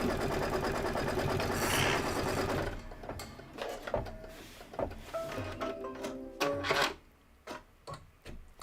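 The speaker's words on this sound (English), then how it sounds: "This is your tack down, then you're going to go right into the quilting." A sewing machine quilting a fabric project runs in a fast steady whir for about three seconds, then gives way to scattered clicks, short stitching bursts and handling knocks up close.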